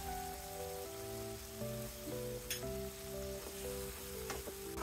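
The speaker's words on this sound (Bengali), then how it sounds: "এবার ভালো করে কষিয়ে নেব" Spices with turmeric and sliced green chillies frying in a pan for Bengali katla fish curry, a steady close sizzle with occasional stirring scrapes and no talk.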